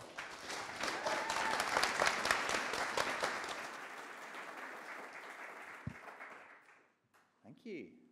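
A conference audience at Bristech 2019 applauds in a dense, steady burst to welcome the next speaker, then the clapping thins and fades away over several seconds into near quiet.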